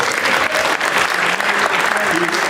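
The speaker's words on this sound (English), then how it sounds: "let's give him another round of applause" Loud, steady applause from a crowd fills the whole stretch, a dense wash of clapping without pause.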